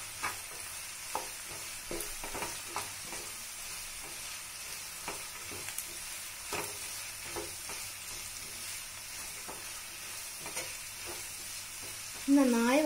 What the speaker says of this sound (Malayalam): ഇത് നമുക്ക് നന്നായി ഒന്ന് ഇളക്കി കൊടുക്കാം.